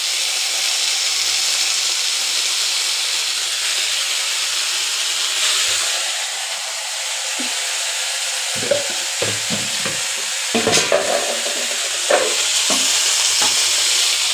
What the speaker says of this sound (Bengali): এবার নাড়াচাড়া করবো শাকটা।